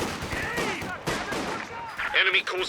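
Gunfire in the Company of Heroes 2 real-time strategy game pops in short bursts beneath a caster's fast spoken commentary during a 2v2 match.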